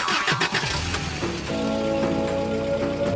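Animated car engine cranking and catching, starting with sputtering bursts and then settling into a steady idle hum, with a hiss like rain in the background throughout.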